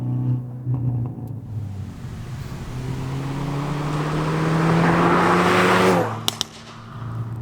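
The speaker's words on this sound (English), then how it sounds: "Oh, I'm in love with that exhaust." A 2019 Hyundai Veloster N hot hatch's exhaust drones loudly as the engine pulls and climbs in pitch, then cuts off with sharp pops and crackles before settling back to a steady rumble.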